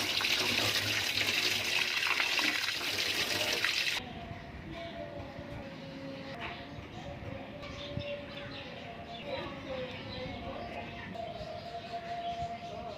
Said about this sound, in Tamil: இப்போ நான் அது ரெண்டையும் நல்லா கழுவி ஃபுல்லாக க்ளீன் பண்ணிவிட்டு